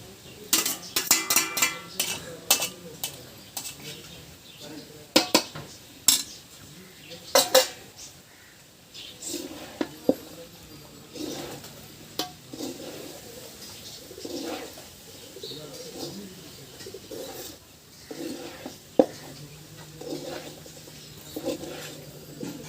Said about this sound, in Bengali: সুন্দর করে নেড়ে চেড়ে দিচ্ছি। সুন্দর করে ভাতটা সবজি এবং মুরগির সাথে মিক্সড হয়ে যাওয়া লাগবে,